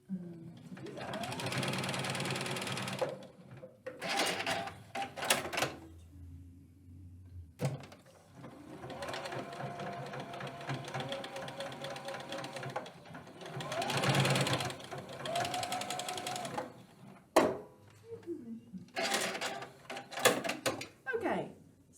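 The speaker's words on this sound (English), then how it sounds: "I'm going to be sewing a 1/4 inch seam" Sewing machine stitching a quarter-inch seam in several bursts of steady mechanical whirring, separated by brief pauses and quiet handling sounds.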